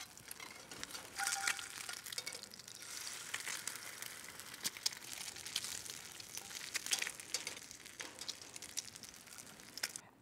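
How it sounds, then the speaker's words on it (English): An egg frying in a pan on the side burner of a Monument Grills Mesa 305 gas grill, a faint, even sizzle with small crackles continuing throughout, no talking. "Let's fry an egg."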